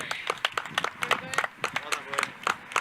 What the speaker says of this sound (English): a huge round of applause for our new amateur and winning amateur grid pro number 7